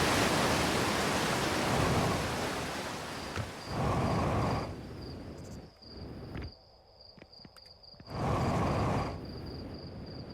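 Video game waterfall ambience, a steady broadband rushing roar that swells and drops in alternating sections, with a faint repeating high tone running through the middle part; no voices.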